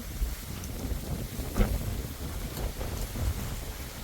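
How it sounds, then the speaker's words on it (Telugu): Strong wind blows outdoors at a fishing spot in Penumudi village. It makes a steady, rough rushing and buffeting with small gusts throughout, with no talking. "పెద్ద గాలి వేస్తుంది"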